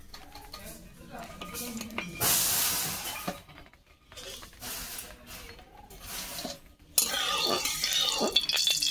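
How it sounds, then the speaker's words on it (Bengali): Mustard oil heating in a wok (kadai) before boiled soybean chunks go in, a hissing sizzle that swells in bursts with clatters of utensils against the pan, up close, with a voice talking in places. "কড়াতে সর্ষের তেল দিয়ে দিচ্ছি"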